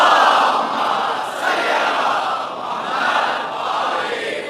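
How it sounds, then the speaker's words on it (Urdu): A large majlis crowd loudly reciting salawat in unison, a dense roar of many voices rising and falling in waves, filling the space without any single speaker standing out. "آپ اس سے اچھی اور بلند صلوات پڑھ سکتے ہیں۔"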